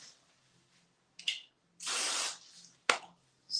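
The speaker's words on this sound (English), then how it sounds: "You can use hairspray as well." Hairspray misted onto hair styled into a high ponytail with braiding hair, a single soft, close hiss lasting about half a second amid faint handling clicks and rustles.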